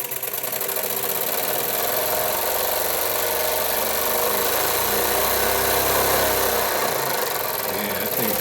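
A small model steam engine runs continuously with a steady mechanical hum and rapid rhythmic clatter, loud and close throughout, with no talking.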